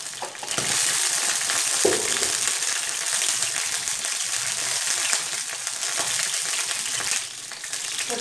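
Whole spices sizzle and crackle steadily in hot ghee in a pan, a continuous close frying hiss with occasional stirring, no voices.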